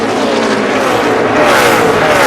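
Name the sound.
NASCAR race car engines at Dollar General 300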